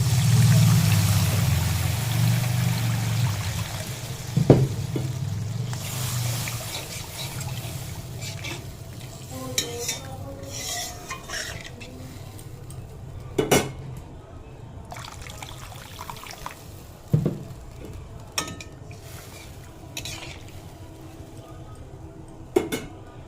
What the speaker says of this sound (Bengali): আবার দিয়ে দেবো জল